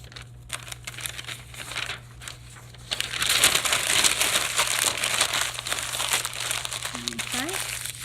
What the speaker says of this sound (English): Now I'm going to try to crumple up some paper that feels like this egg shape.